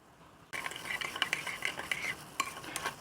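A spoon stirring a mixture with a cube of seasoning and thick soy sauce in a pot, close up, with quick scraping clinks that start abruptly and continue unevenly.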